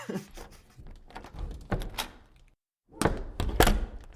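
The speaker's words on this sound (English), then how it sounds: "His mother goes through the door." A door thuds and bumps as someone passes through it, giving a few dull knocks and scuffs, a brief silence, then a firmer slam-like thunk with rattling.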